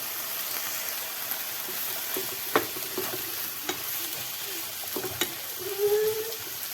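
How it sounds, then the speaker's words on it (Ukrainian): A salted vegetable mix fries in a pan while being stirred, giving a soft steady sizzle broken by a few light utensil scrapes and clicks. It sounds fairly faint and close, with no talking. "Зараз треба перемішати."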